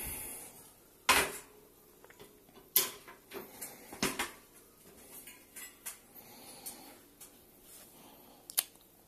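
A 20-inch electric bike front wheel being flipped over, giving a scatter of sharp clicks, knocks and rattles of metal parts close by, with one louder clatter early on and quieter taps spread through the rest.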